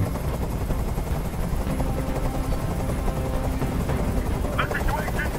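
A helicopter hovers overhead at a rooftop hostage standoff in the video game Detroit: Become Human, a constant heavy rotor rumble filling the scene with a fairly loud, unbroken drone.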